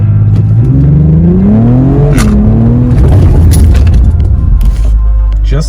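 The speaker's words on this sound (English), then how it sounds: "you're going to put your left foot on the brake and your right foot on the throttle, and you're going to mash it" An Acura TLX Type S roars through a launch-control start on a hot day, the engine note climbing steadily through the revs, dipping at a shift, then pulling hard again, loud and close throughout.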